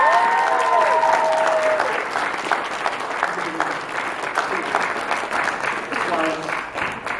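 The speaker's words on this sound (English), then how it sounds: "Give her a big round of applause." A convention crowd at SacAnime Summer 2011 applauds as voice actress Tara Platt comes out, a dense, loud wash of clapping with a few whoops near the start that thins slightly toward the end.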